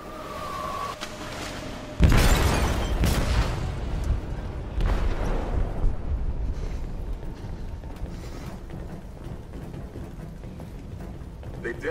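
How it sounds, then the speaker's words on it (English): A sudden heavy boom from a blast in a ship's hold in Detroit: Become Human, breaking in loud after a quiet moment, followed by rumbling debris and scattered crashes fading into a low, sustained roar. "detonated an explosive in the hold. The ship is sinking, sir."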